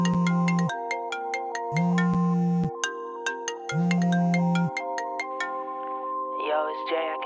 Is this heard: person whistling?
no